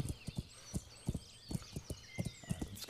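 Horse hooves in the Kingdom Come: Deliverance game, a regular clip-clop of hoof strikes at walking to trotting pace, fairly faint, over a soft background of bird-like chirps and with no talk.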